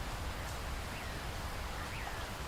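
Heavy rain in a Hindi cartoon about a bird pours as a steady, faint hiss of dense drops, continuous and even throughout with no voices over it.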